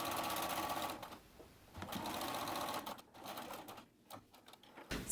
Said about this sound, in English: I am sewing 2 rows of basting stitches along the top edge of the tube